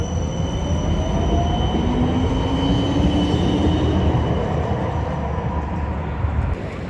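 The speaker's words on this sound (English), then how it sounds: "the trams just dominate outside of Central Station" Tram passing outside Amsterdam Central Station, a loud continuous rumble of wheels on rails with a faint rising squeal and steady high whine, close by and with no talking.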